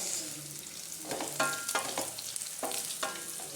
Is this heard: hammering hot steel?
no